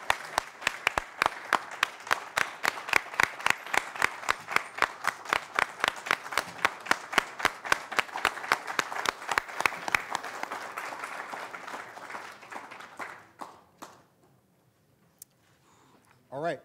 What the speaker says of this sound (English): can we give them another round of applause, a real one?